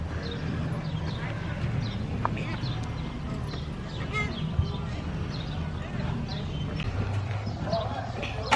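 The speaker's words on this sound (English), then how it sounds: "Keeps kicking, trying to get your attention when you're not looking at him." At Lewis Family Farms in New Era, Michigan, a donkey kicks, its hooves giving scattered, irregular knocks and clops close by over a steady, noisy outdoor background.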